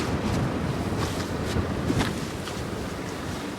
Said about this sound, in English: I apologize for the wind. Sure, it doesn't sound very good on the camera, but it's extremely windy today.